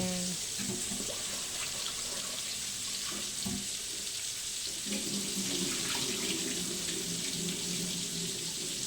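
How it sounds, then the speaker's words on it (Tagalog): Rice is washed in a kitchen under a running tap, with a steady hiss of flowing water, intermittent splashing and stirring sounds, and brief low clatters of the pot, fairly faint and close. "Hugasan po nato ang bugas."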